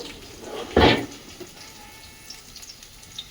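A short splash of water poured into a pressure cooker of khichuri set to boil, one brief gush under a second long against quiet kitchen background.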